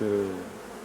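Dense, steady buzzing of swarming-prone, aggressive honeybees around a hive, loud and close, a continuous drone without pauses.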